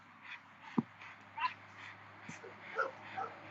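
A young Malinois dog gives a few short, faint whimpers and yips, spaced irregularly, with one sharper sound standing out early.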